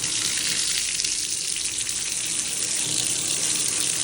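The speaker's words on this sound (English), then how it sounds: "I just ran the water, the hot water" Hot water runs from a bathtub faucet into a badly clogged tub drain, a steady, close rushing splash that holds an even level throughout with no talking.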